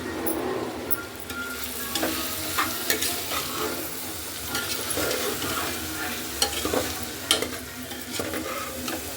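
Vegetables frying with salt in a pan for vegetable pulao, a continuous loud sizzle with repeated scraping and stirring clatters throughout.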